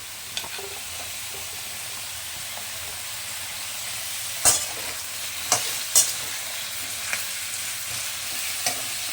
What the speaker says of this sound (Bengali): এখন দিয়ে দিচ্ছি বরবটিগুলো।